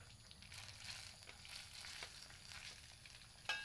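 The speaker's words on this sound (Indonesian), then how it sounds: "Ini ada gadis desa masak nugget." Chicken nuggets frying over a wood fire in a rural village kitchen give off a soft, continuous hissing sizzle at low level, steady throughout and ending in one brief sharper clink.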